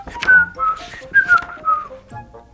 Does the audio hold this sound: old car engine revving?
no